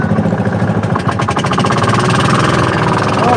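A fishing boat engine runs loud and close with a rapid, heavy mechanical chugging and vibration that stays steady throughout, with no one talking.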